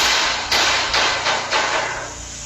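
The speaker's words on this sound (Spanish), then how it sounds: "Al final del pasillo parece ser un tipo de objeto arrojado contra la pared" Several heavy bangs and thuds sound at the far end of a hospital corridor, like an object thrown against a wall, over a loud, hissing background.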